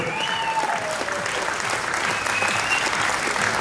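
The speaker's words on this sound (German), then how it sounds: "Großer Applaus für diese Damenklasse." Continuous applause from the audience at a NABBA Austrian bodybuilding championship for the bikini class, dense and fairly close, with a voice faintly heard over the clapping.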